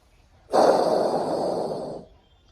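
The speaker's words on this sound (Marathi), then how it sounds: "पुन्हा श्वास घेतला" During a yoga session, a single long, deep exhalation or inhalation through the nose and mouth lasts about a second and a half, close and breathy, with no talking over it.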